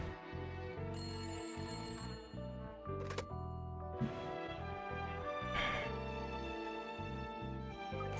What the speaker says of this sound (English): Ring ring! Oh, that's the phone.